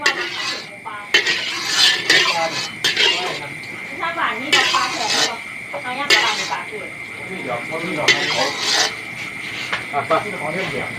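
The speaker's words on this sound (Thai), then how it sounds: "พอกระทะเดือดแล้วเราก็เท เนื้อกบลงไปนะครับ" Frog meat stir-fried for a spicy frog dish in a hot pan, with repeated scraping, clinking utensil strokes and a sizzling hiss, loud and close, under occasional talk.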